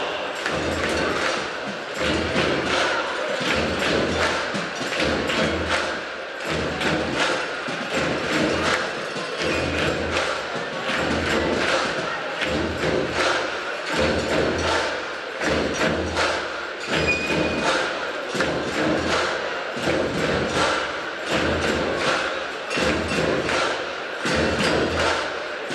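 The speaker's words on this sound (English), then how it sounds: "If you hear the track, let's see if we can clap along." At a swimming championships in Ponds Forge International Sports Centre, a large indoor crowd claps along to a music track. The claps come as a steady, even rhythm of echoing beats that continues throughout.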